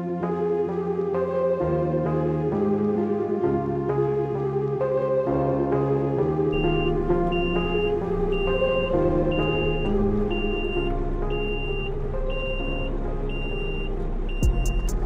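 A hooklift truck maneuvers to load a dumpster, its engine running steadily with layered tonal hum, while a repeating reversing beep pulses at regular intervals through the second half.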